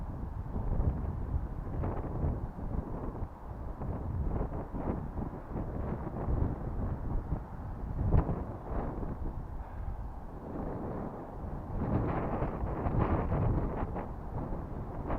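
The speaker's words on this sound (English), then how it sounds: "Oh, that is too windy for me." Strong wind buffeting the microphone in uneven gusts, rumbling low and surging louder at moments, with no one speaking.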